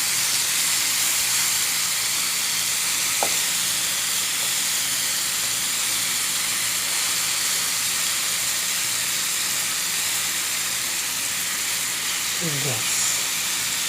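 Pork sizzles steadily in a hot pan for pork afritada, a loud continuous hiss with an occasional scrape of stirring, while a voice speaks briefly over it.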